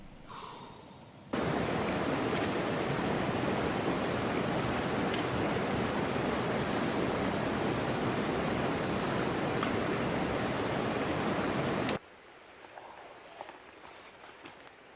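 Creek water rushing steadily at an unbridged trail crossing in the Great Smoky Mountains, a loud, dense broadband wash that starts abruptly, holds for about eleven seconds, then cuts to quieter outdoor ambience.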